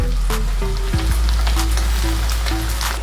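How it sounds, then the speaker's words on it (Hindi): Loud, steady sizzling of beef frying in hot oil in a karahi, with occasional scrapes and clinks of a utensil stirring the pan. "बीफ को 3 से 4 मिनट तक ऑयल में फ्राई करने के बाद"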